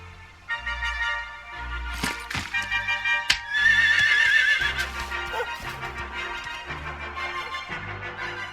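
A horse in the video game Dragon Quest XI whinnies loudly with a rising, shaky call amid game music and clopping hoofbeats, followed by snorts.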